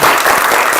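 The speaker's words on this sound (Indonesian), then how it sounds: "tepuk tangan buat kita semuanya" A class of students gives a brief burst of applause, a dense, close flurry of hand claps lasting under a second.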